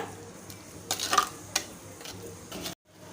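A spoon scrapes and clinks against a pan while curd is stirred into hot meal maker gravy, with a few sharp metallic taps over a quiet background before the sound cuts off abruptly.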